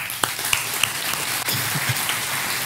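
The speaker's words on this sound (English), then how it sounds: "Can everybody clap for me?" A church audience claps together on request, a continuous patter of hands with a few sharper individual claps standing out, all fairly close and without talk.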